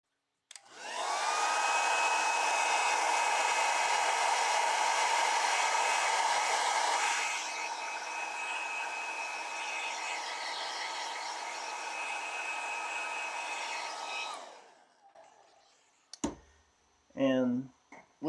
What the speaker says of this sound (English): Blow dry this a little bit.